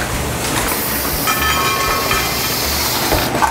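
A Badger Balm lip balm filling machine runs nearby with a loud, steady mechanical whir and hiss, threaded with rapid rhythmic clicking and clatter.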